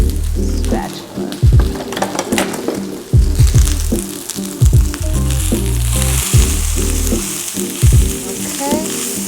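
Quinoa mixed with carrots and zucchini sizzles in a hot pan, a loud, continuous frying crackle broken by clattering spatula scrapes and stirring knocks, close up with no voices.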